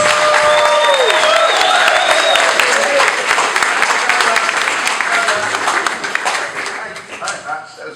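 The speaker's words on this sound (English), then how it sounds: "if you could start the applause, bring it right the way through the room, all the way down" A comedy club crowd at a brewery applauds to welcome an act, loud sustained clapping with some cheering and a few whistles, tapering off toward the end, with a voice briefly audible over it.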